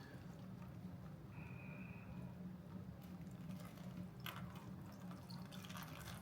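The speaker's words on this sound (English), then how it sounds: "The water should be draining from this." Water draining from a tropical pitcher plant pot after watering, a faint, steady trickle and patter of liquid running out, quiet and close, with no talk.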